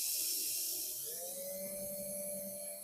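A drill spinning up to high speed, a steady whine that rises in pitch and holds, heard close over a hissing background with no talking.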